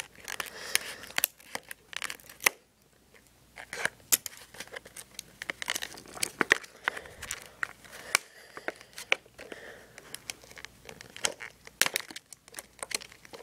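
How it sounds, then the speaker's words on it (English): Scissors snip and crunch through stiff plastic packaging on a Star Wars X-Wing model kit, with rapid irregular cuts and crinkles repeating close up over several seconds, broken by one brief pause. "Still more plastic to cut through."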